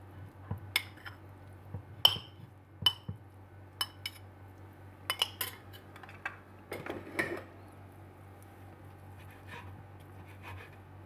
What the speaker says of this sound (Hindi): चिकन टिक्का को कटिंग बोर्ड पर डालेंगे और इसके छोटे छोटे पीस काट लेंगे